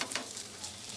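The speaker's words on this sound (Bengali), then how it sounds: "আলুটা ভেজে নেবো," Potato fries in hot oil with a quiet, even sizzle and faint crackle, close and brief, no voices.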